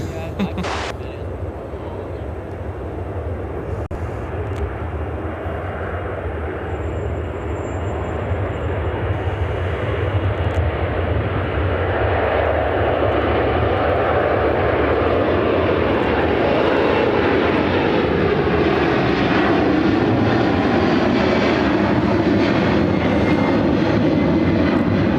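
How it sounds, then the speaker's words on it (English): A United Airlines jet airliner takes off from Chicago O'Hare bound for London Heathrow, its engines swelling from a distant rumble into a loud, sustained roaring thrust that holds steady, with a few sharp knocks early on. "This is United Airlines 929 taking off to London Heathrow"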